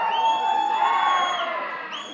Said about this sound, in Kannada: ಕಿರ್ಚಾಡಿ ಚಪ್ಪಾಳೆ ತಟ್ಟಿ ನಿಮ್ಗೆ ಏನೇನು ಖುಷಿ ಬರುತ್ತೆ ಅದನ್ನೆಲ್ಲ ಮಾಡಿ